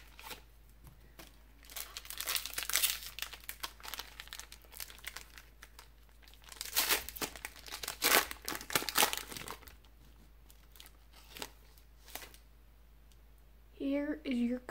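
Foil wrapper of a Pokemon Burning Shadows booster pack crinkling and tearing open in close, uneven bursts, with a brief voice at the end.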